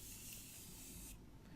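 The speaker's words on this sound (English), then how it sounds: "let's do a little bit of setting spray before we go in with mascara" Morphe Prep and Set setting spray mists onto a face in one close, steady hiss lasting about a second before cutting off.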